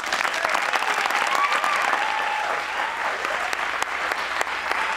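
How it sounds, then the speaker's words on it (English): A crowd at Lindyfest 2010, a swing dance event, gives a long round of applause: sustained, dense clapping filling a large room and staying loud and steady for about five seconds. "I would like everybody to give a huge round of applause to Norma Miller."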